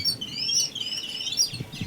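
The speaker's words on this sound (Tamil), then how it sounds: "2 குட்டி குருவி இருக்குதுன்னு நினைக்கிறேன்." Sparrow chicks being fed chirp in a steady stream of high, thin tweets and overlapping cheeps, close by and fairly loud, with faint low background noise and no talking.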